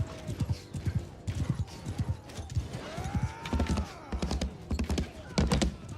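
Horse hooves clip-clop in a steady galloping rhythm in a medieval video game, loud and close, with a brief whinny and some clanking in the middle.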